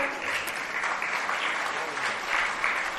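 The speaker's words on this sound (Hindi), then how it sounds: "अब जो भी आप लोग ताली बजा रहे हैं" A brief burst of steady clapping rises from an audience gathered for a Jain monk's sermon. It is close and even for a few seconds.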